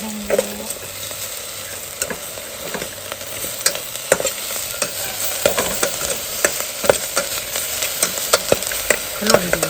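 Insects dry-roasting in a pot crackle and rattle as they are stirred, with a steady hiss broken by frequent sharp scraping clicks that grow busier toward the end.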